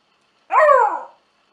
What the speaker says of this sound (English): replaces a usual dog's bark with a yodel-like sound